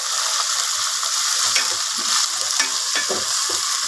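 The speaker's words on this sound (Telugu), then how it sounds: "పుదీనా కరివేపాకు కొత్తిమీర ఈ మూడు వేసుకుంటున్నాను ఇలా ఫ్రై అవ్వాలి" Mint, curry leaves and coriander fry in hot oil for an Andhra chicken dum biryani, making a loud, continuous close-up sizzle broken by scattered crackles and stirring scrapes, with nobody talking.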